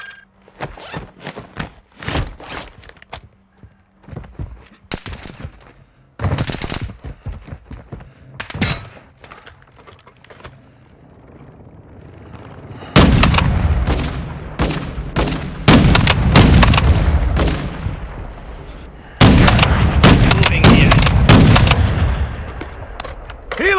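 Gunfire in the video game Call of Duty: Warzone 2.0, with scattered sharp shots and bursts early on, then dense, loud volleys of rapid fire and impacts later.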